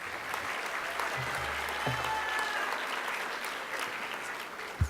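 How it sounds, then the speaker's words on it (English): An audience at a school board meeting applauds middle school students, a steady, moderately distant round of clapping that holds for several seconds, with faint voices underneath. "let's give a round of applause for all of these middle school students for outstanding achievement"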